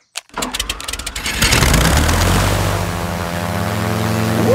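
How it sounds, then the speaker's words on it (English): A small cartoon toy aeroplane engine sputters to life with rapid revving pops, then settles into a loud, steady buzzing drone. "The toy aeroplane is doing a loop-the-loop."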